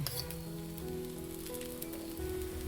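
Brinjal frying in oil in a pan gives a continuous soft sizzle and crackle, steady and close, with no talking.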